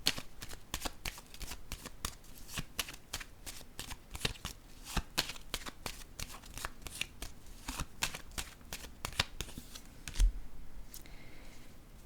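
Tarot cards being shuffled in a continuous run of crisp, rapid riffling flutters, close and fairly quiet, ending with a soft thump as the deck settles, with no talking.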